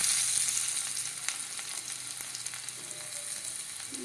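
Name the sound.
crushed garlic sautéing in oil for moong dal rasam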